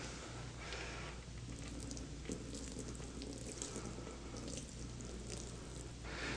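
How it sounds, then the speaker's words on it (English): Two cups of water are poured from a pitcher onto a floor mat, giving a soft, continuous splashing trickle that runs steadily at low level for several seconds. "I'm going to put the water on the mat."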